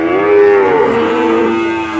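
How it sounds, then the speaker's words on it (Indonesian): Cattle in a cowshed holding a Belgian Blue cross bull let out a single loud, drawn-out moo that fills the whole two seconds close to the microphone, with no talking. "Kita lanjut sapi-sapi berikutnya."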